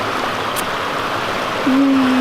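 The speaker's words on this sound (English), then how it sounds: "this is the top of the waterfall" Mountain stream rushing at the top of a waterfall in the San Bernardino Mountains, a steady broadband wash of flowing water, loud and close, with a brief tonal voice-like hum near the end.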